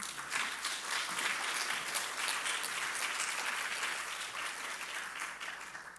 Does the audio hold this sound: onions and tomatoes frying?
no